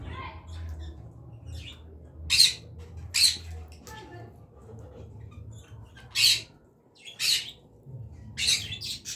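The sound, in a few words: caged birds squawking at night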